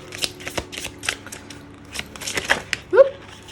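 Oracle cards being shuffled by hand in a series of quick papery riffles and taps, close and fairly soft, ending in a brief louder swish.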